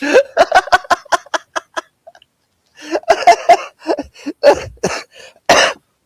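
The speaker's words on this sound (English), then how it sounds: "Oh, you made me cough." A run of sharp coughs and sputtering, giggly bursts, a pause, then another cluster of coughs ending in one harsher burst, close and loud.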